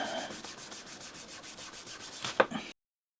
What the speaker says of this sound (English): This is just starting on my 400 grit diamond stone.